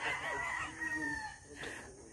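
A chicken being held in someone's hands gives a few faint, high clucking and squawking calls, quiet and close with no talking.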